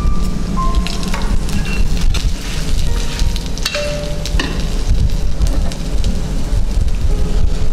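Dry red chillies, coriander and cumin fry in a pan for Kongu-style chicken gravy, giving a loud, continuous crackling sizzle like heavy rain. Scattered sharper pops and spatters run through it, with no talking.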